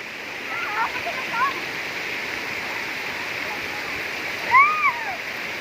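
Pha Charoen waterfall gives a steady, broad rush of falling water throughout, with brief voices calling out near the start and a louder burst of speech near the end.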